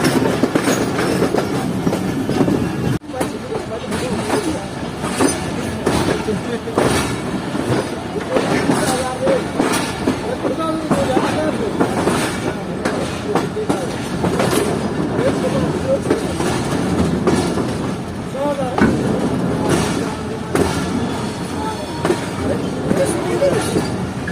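The Sukkur Express passenger train rolls through the night from Jacobabad with a loud, continuous rumble and a steady clickety-clack of wheels over rail joints. Faint voices drift beneath the noise.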